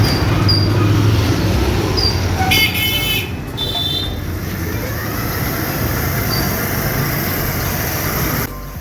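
A 36 V 350 W electric bicycle hub motor spins at high speed on throttle, a steady loud whining buzz with a constant droning hum, interrupted by a brief metallic rattle early on; no talking.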